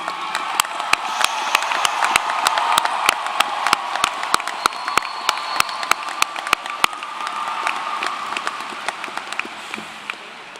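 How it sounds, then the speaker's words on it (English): A graduation audience at a technical center applauds its standing teachers and staff, a dense, sustained wash of clapping from a large crowd with sharp individual claps popping out throughout. "applause for all of their hard work."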